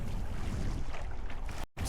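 A Water Snake T18 electric trolling motor drives a kayak at second speed over choppy water, with a steady broadband rush of water, wind and motor noise that continues without a break and then cuts out briefly near the end.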